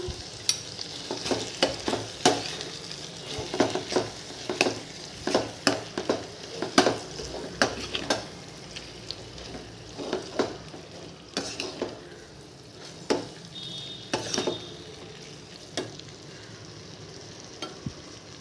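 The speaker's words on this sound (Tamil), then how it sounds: "உப்பும் போட்டுப்போம் வேகட்டும் இறால் நல்லா கிண்டிக்கோங்க" Prawns with turmeric and chili powder sizzle steadily in a hot pan while a utensil scrapes and stirs in irregular bursts, with occasional clinks against the metal.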